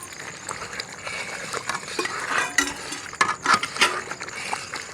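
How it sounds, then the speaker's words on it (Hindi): Ghee is poured into sweet dhooda and stirred, a steady scraping and clinking of a utensil against the pot with a soft churning texture, close and continuous, no talk. "घी शामिल कर रहे हैं।"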